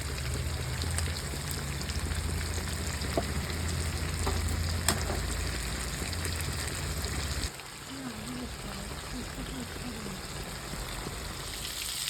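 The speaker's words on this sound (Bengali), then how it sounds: "ডিম সিদ্ধ করে ভালো করে ভেজে নিচ্ছি। এপাশে আলুটাকেও আমরা ভালো করে ভেজে নিচ্ছি।" Boiled eggs and potatoes frying side by side in a pan, a steady close crackle and sizzle with scattered spoon taps; a low hum drops out partway and faint talk sits underneath.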